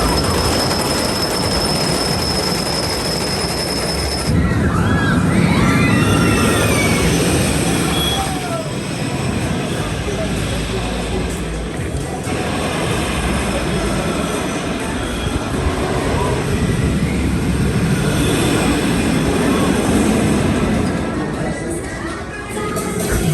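A roller coaster train at a Six Flags amusement park rumbles along its track with a long, loud, rolling roar and squealing wheels, steady throughout with occasional faint distant voices.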